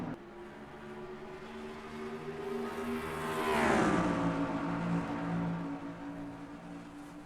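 Race cars in the NASCAR Racing 2003 sim at Homestead-Miami Speedway roar together in a steady, layered engine drone, with one car swelling loudly as it sweeps past midway before the pack noise settles back.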